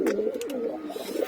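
Pigeons in a home loft give a close, soft throaty cooing, a short rolling run of low coos on their own, with no voices.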